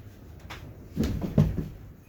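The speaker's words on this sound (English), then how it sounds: "Keep my door from rattling." A door rattles in the wind with two loud knocking clatters in quick succession amid softer scattered taps, close by and without speech.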